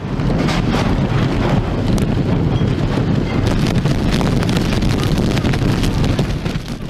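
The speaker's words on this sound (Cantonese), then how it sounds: "杏花邨持續大雨，風勢不斷增強。" Strong typhoon wind roaring steadily at a Hong Kong housing estate under the No. 10 hurricane signal with heavy rain, a loud, unbroken rushing buffet against the microphone with no pauses.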